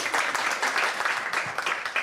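Applause from a festival audience, a steady broadband patter of many hands clapping at moderate distance, continuous for about two seconds without a clear break.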